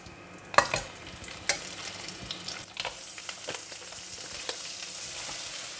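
Crab stir-fried with garlic in a hot pan, a steady sizzle of frying with a few sharp clacks and scrapes of stirring near the start, fading to an even hiss.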